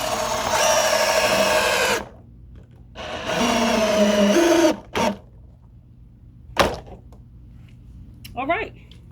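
A power drill drives screws into flooring during a floor installation, with two long, loud whirring bursts of about two seconds each, then a short burst and a brief sharp knock, followed by quieter handling noises.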